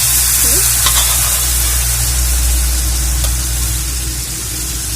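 Raw banana curry with turmeric sizzles loudly in a pan while being stirred, a steady bright frying hiss broken by occasional scraping strokes of the spoon.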